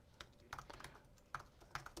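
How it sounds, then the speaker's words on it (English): Computer keyboard keys clicking in short bursts as someone types a question into a chatbot on a website, close and fairly quiet, with no talking. "And I can get my typing in order here"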